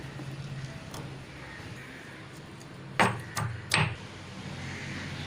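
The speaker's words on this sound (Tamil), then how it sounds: "இப்போ போட்டிருக்க இலை எல்லாத்தையும் 1-2 நல்லா தட்டிட்டேன்" Leaves for a homemade cold and cough remedy are pounded by hand: a soft early thump, then a quick cluster of three sharp, close thuds against a quiet room background.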